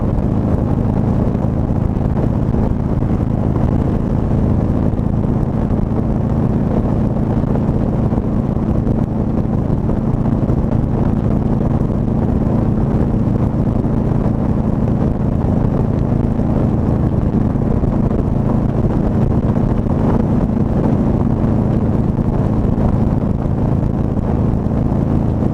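Steady, loud engine drone and wind rush from a Harley-Davidson Road Glide motorcycle cruising at highway speed, continuous and close throughout with no talking.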